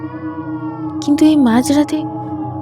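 A child's crying sound effect in a Bengali radio drama: a brief, wavering wail that rises and falls for under a second. A narrator is speaking through it against a low, steady background drone.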